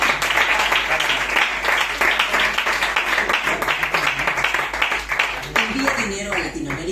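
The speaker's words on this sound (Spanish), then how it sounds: "Fuerte el aplauso para el Señor." Congregation applauding at a church Bible study, a dense, steady wash of clapping that holds for about seven seconds, with voices mixed in throughout.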